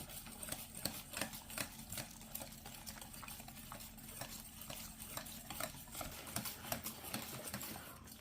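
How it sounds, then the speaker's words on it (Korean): Fermented soybean powder is stirred through a sieve for garlic gochujang, producing a steady, rapid scratching and rustling rhythm that runs continuously at close range with no talking. "체에 걸러주시면서 메주가루를 이렇게 풀어주시면은 가루가 뭉쳐지지, 이렇게 덩어리가 지지 않고 이렇게 잘 풀릴 수 있답니다"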